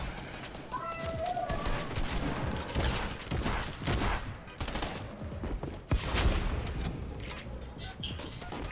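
Rapid bursts of weapon fire from a proximity launcher in a video game, dense crackling explosions layered with game effects and a player's voice talking over them.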